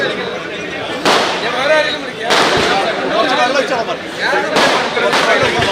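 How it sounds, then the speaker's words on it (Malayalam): Firecrackers burst in sharp, loud cracks, three or four spaced a second or two apart, each followed by crackling, over a noisy crowd at a political rally. "ആ പടക്കം പൊട്ടിക്കലൊന്ന് നിർത്തണം. ഇനി പുതിയ പടക്കം പൊട്ടിക്കരുത്."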